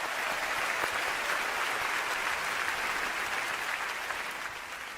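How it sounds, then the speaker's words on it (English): Conference audience applauding after a live Android XR glasses demo, a dense, steady burst of clapping that tapers slightly toward the end. "Round of applause for Nishta."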